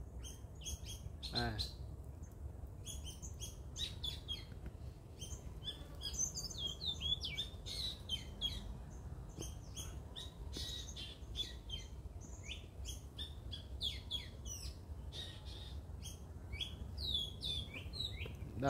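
Many birds chirp and tweet in rapid overlapping calls, fairly faint over a steady low background rumble, with occasional squawks and voices in the distance.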